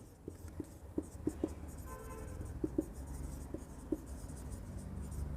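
Marker or chalk writing on a board during an accounting lesson, heard as soft scratchy strokes and light taps in short uneven bursts over a steady room hum, with no voice.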